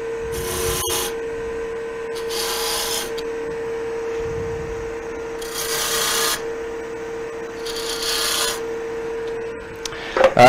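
A peppermill turning on a wood lathe, shaped with a 3/8 beading and parting tool; four rasping, scraping cuts come in separate bursts over a steady motor hum, close and moderately loud.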